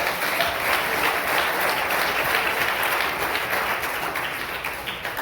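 Steady applause from a large church congregation, dense and even clapping that holds throughout and fades slightly toward the end.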